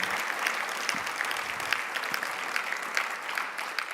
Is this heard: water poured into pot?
no